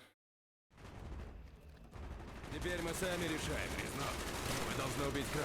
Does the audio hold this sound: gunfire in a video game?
yes